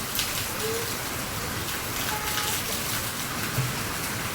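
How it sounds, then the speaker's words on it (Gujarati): Steady evening rain falls over a flooded village, a dense, even hiss of drops on surfaces close by with no let-up, no voices. "બીજા દિવસે પણ વરસાદ પડવાનું ચાલુ થઈ ગઈ છે"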